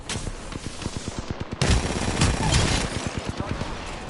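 Rapid bursts of automatic gunfire in a sci-fi shooter video game, sharp repeated shots in a steady rhythm that grows denser and louder midway, with a heavier crackling barrage and faint talk underneath.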